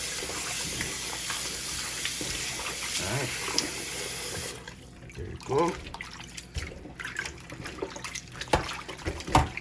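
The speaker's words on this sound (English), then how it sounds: "So to get it clean, we're gonna get some water in." Tap water gushes steadily for a few seconds, then stops, followed by splashing and sloshing as oxtail is rinsed, with someone speaking briefly.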